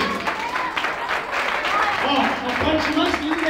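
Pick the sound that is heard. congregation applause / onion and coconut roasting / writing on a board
congregation applause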